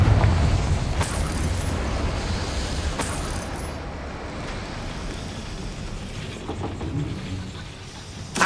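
Confringo fire spell from Hogwarts Legacy bursting in combat, a loud rumbling explosive boom with sharp crackling blasts near one and three seconds, fading into a low roar before another hit at the end.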